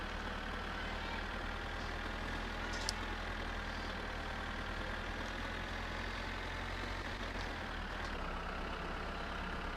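A tractor engine in the My Summer Car driving game runs at a steady idle, a continuous low rumble with even hum that holds throughout, fairly close and unbroken, with no talking.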